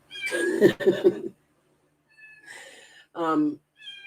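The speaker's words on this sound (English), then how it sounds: "this cat's so annoying. It's so loud and it's so tiny." A small cat meows loudly several times in short bursts, close by, with brief pauses between calls.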